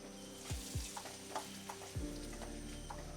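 Spices with turmeric, fenugreek powder and salt sizzle steadily in a pan for mango pickle, with a few soft scraping stirs near the start, close and continuous with no talk.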